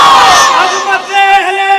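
At a religious gathering, a large crowd roars a slogan back in unison, loud and close, with a rising shout that swells and then fades, followed by more massed chanting.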